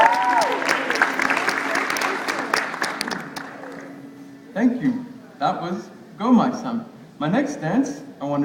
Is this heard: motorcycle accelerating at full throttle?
no